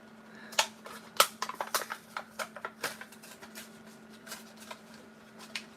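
Close crinkling and snapping of a Hot Wheels blister package being ripped open, a burst of sharp plastic and cardboard cracks and rustles that thins out toward the end.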